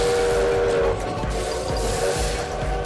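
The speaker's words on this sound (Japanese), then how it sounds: "いやマジで何今の列車" A train passes in the Lobotomy Corporation video game, a loud, steady rumbling rush with whistle-like tones, lasting the whole few seconds.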